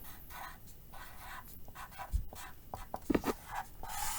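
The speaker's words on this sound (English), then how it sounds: "So I'm going to write Charlie" A pencil writes on paper, close up, in quiet scratchy strokes that come in short bursts with small pauses between the letters.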